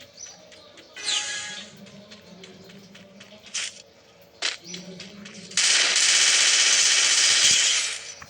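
Gunfire in the mobile battle game Free Fire: scattered sharp shots and short bursts early on, then a long loud sustained burst of automatic fire in the final seconds.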